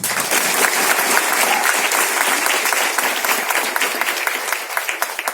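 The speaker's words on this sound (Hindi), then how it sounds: "जोरदार ताली" Loud, dense clapping from a large crowd at a distributor training event in Thane, India, sustained and even for several seconds before starting to thin slightly near the end.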